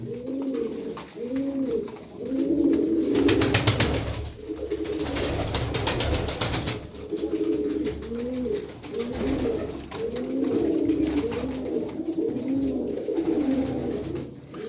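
About twelve domestic pigeons, Sarıkır and gypsy blue birds among them, coo in repeated rolling phrases close by, with wing flutters and clattering bursts over the cooing and no speech.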